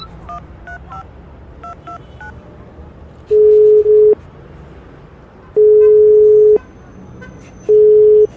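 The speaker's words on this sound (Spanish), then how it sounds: "Saqué el móvil y llamé a Alba." A mobile phone call is placed: a quick run of keypad dialing beeps, then long, loud, steady ringback tones repeating at intervals over a faint background hum.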